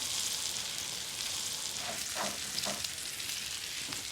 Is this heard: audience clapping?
no